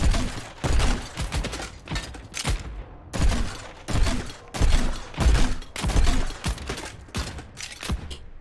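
Junkrat fires his grenade launcher in Overwatch, a run of loud, punchy blasts about two per second, each thudding bang followed by a brief mechanical clatter, with no talking.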